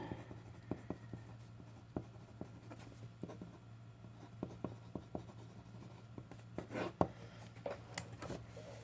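A marker or chalk draws on a lecture board, giving soft scratchy strokes and sharp taps at an irregular pace over a steady low room hum, close and quiet, with no talk.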